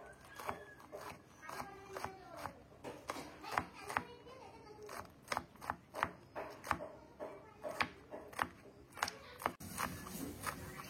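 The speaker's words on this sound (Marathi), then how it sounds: "धुवून झाल्यानंतर आपण ही बारीक बारीक कापून घेऊया" A knife finely chopping shevla shoots and their peel on a board, with a run of quick, fairly close, regular strokes that pause now and then; faint background voices.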